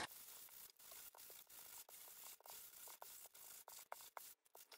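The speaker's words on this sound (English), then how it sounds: "I'm going to sand these two pieces down first." Sanding two thin craft pieces for a rustic tag, a steady soft scratchy rubbing that runs in short strokes broken by brief pauses, close up and fairly quiet.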